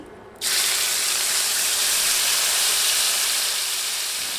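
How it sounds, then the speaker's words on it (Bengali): Chopped onions dropped into leftover hot oil on a medium flame, a loud steady sizzle and hiss that bursts in after a brief quieter moment and holds strong throughout. "অবশিষ্ট যে তেল আছে তাতে দিচ্ছি পেঁয়াজ কুচি"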